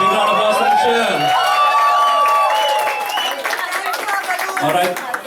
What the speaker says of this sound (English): And a big round of applause for Michelle.